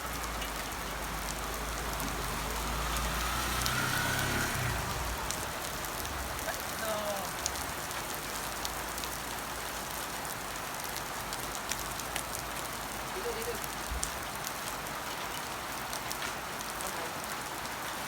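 Steady rain patters in a dense, even hiss throughout, with a low rumble early on and occasional sharper drips.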